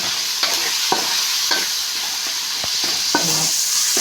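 Tomatoes fry in a pan while being mashed into a pulp, producing a close, steady sizzle broken by sharp scraping and tapping strokes of the spoon at an uneven rhythm, with no voices.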